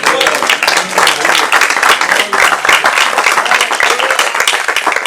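Church congregation applauding loudly and steadily, a dense sustained roar of many hands clapping with crowd voices mixed in throughout.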